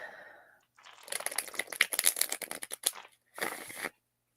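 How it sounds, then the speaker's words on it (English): A pocket-sized tarot deck is shuffled by hand, a quick run of crisp, papery riffling flutters up close, then a brief pause and one last short burst of cards. "This deck does shuffle beautifully."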